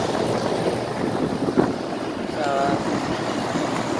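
A 2016 Ruud central air conditioner unit, clogged but running, gives a steady broadband whooshing hum close to the microphone while a voice briefly speaks over it.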